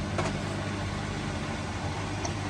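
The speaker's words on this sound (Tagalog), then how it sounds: "Parang iba man yung tunog ng washing ngayon." A washing machine runs steadily at home with a continuous low rumbling hum that stays at a constant level, and no talk is heard over it.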